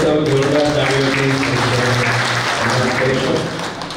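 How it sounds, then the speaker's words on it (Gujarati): An audience at a public welcome ceremony for a rally organiser claps steadily throughout, a dense wash of applause with a voice talking over it. "આપણે સૌ જોરદાર તાળીઓથી"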